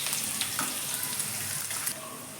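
Two onions fry in a cumin tempering of hot oil with a dried red chili for Bhavnagar-style dal. A continuous, close, fairly soft sizzle and crackle carries on evenly throughout.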